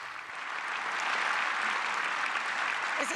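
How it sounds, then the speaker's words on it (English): Applause fills the German parliament after the chancellor vote, a dense, sustained wash of many hands clapping that swells and holds throughout. "There will be time to applaud in a moment"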